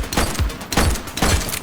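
Gunfire in the police video game The Precinct: three loud, close bursts of rapid shots about half a second apart, each with a heavy low thump, and no talk.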